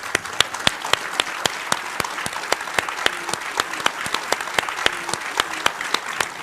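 A studio audience applauds to welcome guests onto a Hindi television debate show. Dense, steady clapping is punctuated by a few louder individual claps and holds at an even level throughout.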